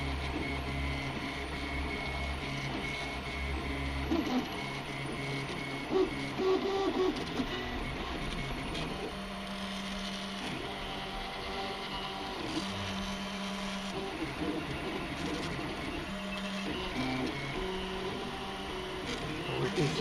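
A 3D printer prints an ABS Vernier caliper head part, its stepper motors whirring in shifting tones with a steady fan hum, close and continuous.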